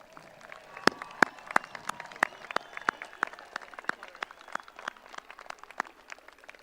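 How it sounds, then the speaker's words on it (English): A crowd applauds at a 2021 high school graduation ceremony, with scattered sharp claps over a soft, steady patter, moderately distant and continuous without speech. "Let's give them a round of applause."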